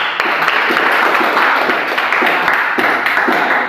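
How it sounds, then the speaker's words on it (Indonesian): Classroom applause from students after a biology lesson on plant growth and development, a dense steady wash of many hands clapping at close range, loud and continuous throughout with no break. "Tepuk tangan dulu."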